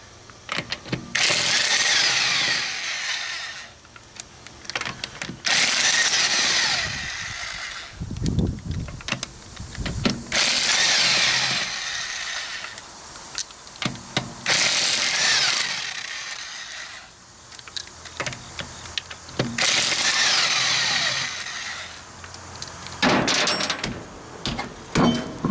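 A Kobalt 1/2-inch corded 8.0 amp electric impact wrench removing five lug nuts, sounding as repeated loud bursts of rapid hammering rattle, each several seconds long, separated by short pauses and clanks.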